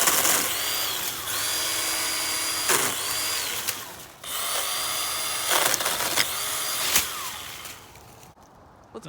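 A Litheli U20 cordless electric 8-inch pole saw cuts through a tree branch outdoors, its motor whining loud and steady with brief dips and restarts between cuts.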